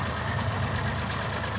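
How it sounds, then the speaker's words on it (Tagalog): A motorcycle engine runs steadily up close with a rough, uneven knocking rattle throughout, from mistimed ignition. "may kakaibang tunog sa makina"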